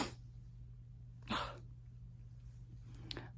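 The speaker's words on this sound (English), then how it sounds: "I think I have to sneeze." A single sharp sneeze bursts out briefly in a quiet room over a steady low hum, followed later by a faint second short breathy sound.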